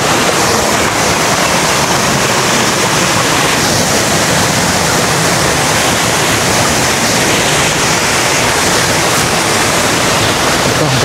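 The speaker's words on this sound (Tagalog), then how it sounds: "360 view ng Noknok Falls sa may Real, Quezon." Noknok Falls in Real, Quezon, a waterfall over rocky ground with very clear water, roars as a loud, steady broadband rush of falling water that fills the whole clip without a break.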